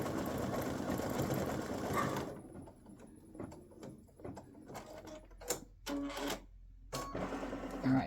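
An embroidery machine stitches an applique Christmas gnome design in black thread, its rapid mechanical needle chatter running steadily, then thinning into intermittent clicks and thumps as the stitching pattern shifts, close up and with no talk.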